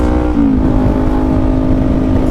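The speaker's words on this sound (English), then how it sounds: "to like lessen the exhaust sound" A loud motorcycle exhaust drones steadily while upshifting, its pitch rising slightly as the motor revs, heard close and continuous with no voices.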